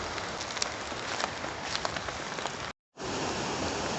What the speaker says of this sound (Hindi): बारिश तो थमती हुई नज़र नहीं आ रही है